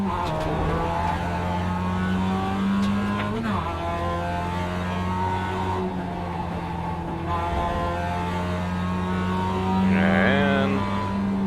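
A race car engine drones steadily through a qualifying lap in iRacing, holding a constant pitch with a brief dip and a rising rev near the end, close and continuous.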